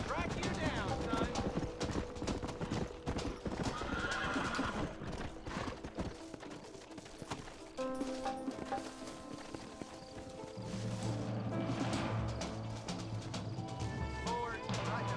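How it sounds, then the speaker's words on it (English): Hooves clop rapidly and horses whinny amid a busy, dense mix of Red Dead Redemption game sounds, with someone shouting over the top. "Stay away from them animals! Get away from them horses!"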